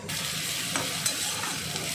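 Onion frying with grated ginger for khichuri, a steady close sizzle over two seconds, with a couple of light stirring scrapes and no talk.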